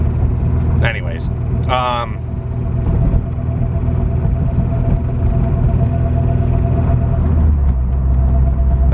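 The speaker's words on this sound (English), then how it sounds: "So I bought this car knowing that it has an engine noise." A Honda Civic engine with a known engine noise drones steadily while the car is driven, a low close rumble that swells slightly near the end, with a brief voice over it early on.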